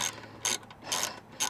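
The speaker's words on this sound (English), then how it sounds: "So it has a 10 millimeter screw right here that we need to get out of there." A ratchet works loose a silver 10 mm screw inside the door of a 2016 Nissan Rogue, giving faint, quick clicking bursts in an even rhythm, with no talking.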